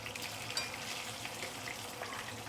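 Fish deep frying in hot oil to golden brown, a steady dense sizzle and crackle running continuously at close range with no voices.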